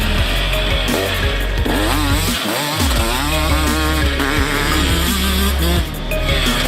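A KTM 150SX two-stroke motocross bike from 2019 screams loud and close, its ringing engine note rising and falling through revs with a brief dip partway before climbing again.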